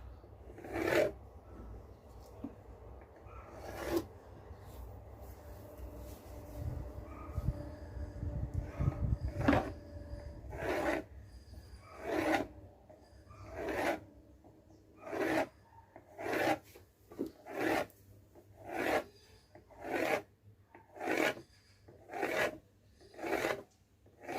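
A knife cuts maida and sugar dough for kommu mithai in a home kitchen, making repeated dry scraping strokes that settle into a steady, even rhythm of close, distinct cuts.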